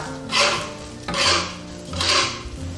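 Sesame seeds being stir-fried in a wok make three slow, sweeping scrapes and rustles, each swelling and fading as the spatula turns the seeds.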